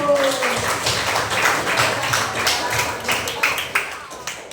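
Classroom applause breaks out after a teacher's lesson on making tea, a dense patter of clapping hands sustained throughout, with some voices mixed in.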